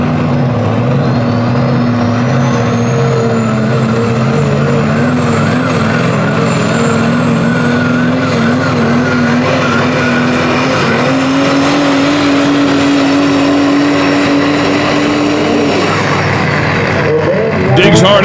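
The Pro Stock diesel pulling truck Smokin' Ya, driven by Eric Stacy of Winchester, Ohio, roars loudly down the truck-pull track with a sustained, rising engine howl and turbo whistle. An announcer talks over it, and it cuts off near the end.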